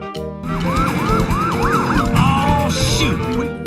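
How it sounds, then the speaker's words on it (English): A police siren wails in rapid rising-and-falling sweeps, loud and close, over rumbling engine noise and busy background sound. "the police car is chasing the Cheeks family"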